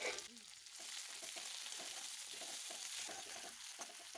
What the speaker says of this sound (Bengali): কেটে রাখা পেঁয়াজটা আর সামান্য রসুনের পেস্ট দিয়ে এটাকে বেশ কিছুক্ষণ ভালো করে ভেজে নেবে